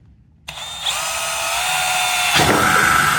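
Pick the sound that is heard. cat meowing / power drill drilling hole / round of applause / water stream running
power drill drilling hole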